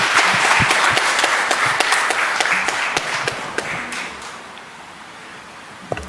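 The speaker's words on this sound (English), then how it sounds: "Bring a round of applause for his immense contributions" Audience applause in a convocation hall at a conference session, a dense burst of many hands clapping that thins out and fades over several seconds, with a final lone clap.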